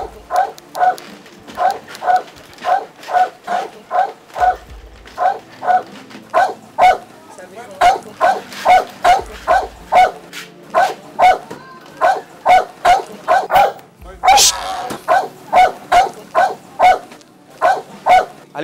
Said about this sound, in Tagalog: Wala ho bang pahinga itong aso nyo? Kanina pa ho tahol ng tahol eh.